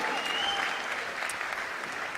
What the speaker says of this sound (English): On peut les applaudir bien fort, les Optic Gaming, champions de cette ESWC.